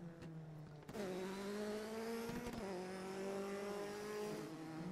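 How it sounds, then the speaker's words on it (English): Rally car engine in Garry's Mod, a steady droning note that shifts pitch with a couple of quick gear changes or throttle blips, loud and close with no voices. "I like the sound of these cars as well"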